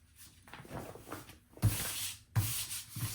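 Rubbing strokes smoothing the edges of a piece in an art studio, a few soft scraping passes with sharper, louder rubs toward the end, close and alone.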